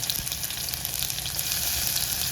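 Cumin seeds and garlic sizzle in hot oil for a moong dal varan, giving a dense, even crackle close to the microphone with no speech.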